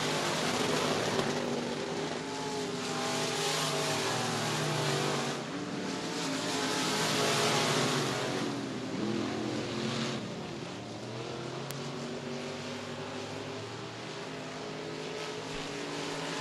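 Stock cars race around the dirt oval at Murray County Speedway, a pack of engines roaring past in a long, steady, loud drone that swells and fades as the cars circle the track, with no commentary over it.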